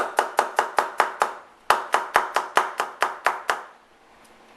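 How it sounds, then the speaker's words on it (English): A knife chops vegetable stems on a board in crisp, evenly spaced strikes, a run of about eight, a short pause, then another quick run of about eight before it goes quiet. "Slice them at an angle. You can also chop them."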